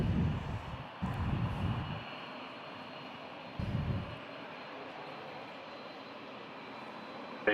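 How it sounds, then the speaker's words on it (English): A Boeing 787-9 heavy jet landing at Toronto airport, a steady distant engine roar with low rumbling bursts from wind buffeting, continuous throughout at moderate level. "Heavy coming in, this is a 787-9."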